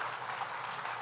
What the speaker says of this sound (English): Let's give another round of applause to all of our public sector union members.